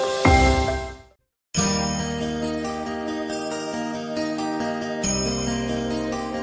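A bright chime rings out and fades, followed after a short gap by a busy music passage with sustained tones.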